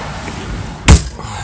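A door is shut quickly at home on a stormy day, one loud, abrupt slam near the microphone that rises briefly above a quiet background.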